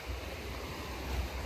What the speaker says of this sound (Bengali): এই যে জল আসছে ক্রমাগত